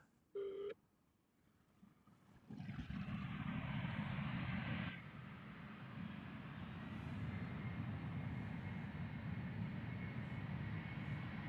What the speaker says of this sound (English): The Embraer 190 from Speedbird going to London City.